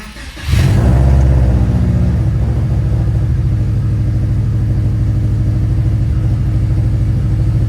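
A car engine catches and settles into a loud, steady, throbbing idle with a beefy, rumbling note just after start-up, running alone without talk.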